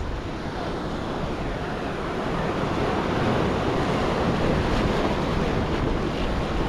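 Ocean waves wash steadily at sea on a fishing trip off Mooloolaba, a continuous broad rush of surf mixed with wind buffeting the microphone.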